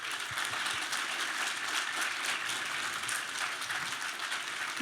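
Steady, dense clapping from a studio audience on a live talk show, holding at an even level for several seconds with no voices breaking through.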